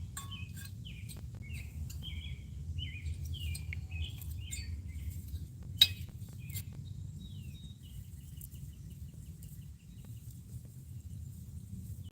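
Small birds sing in a garden in the USA: scattered high chirps and short tweets, some near and some farther off, over a low continuous outdoor rumble with no talking.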